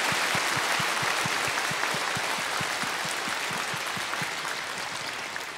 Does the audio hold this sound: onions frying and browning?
no